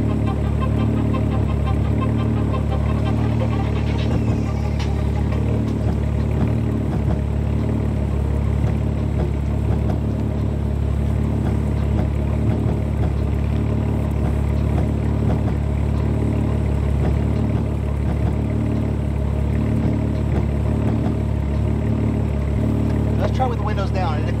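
BMW F30 engine idling with a straight pipe exhaust, a low, steady droning rumble heard from inside the car with the windows up, continuous throughout.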